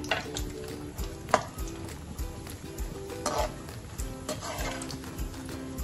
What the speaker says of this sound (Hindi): तो सबसे पहले हम एक काजू को बादाम हम थोड़े से फ्राई कर लेते हैं